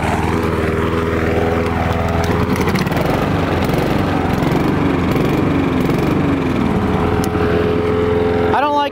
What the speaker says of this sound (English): I guess I am mowing wet grass